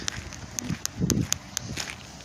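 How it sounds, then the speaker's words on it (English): Footsteps crunch outdoors on a cold Michigan night, a steady walking rhythm of close, crisp steps with soft rustling between them. "So that everybody can hear our footsteps."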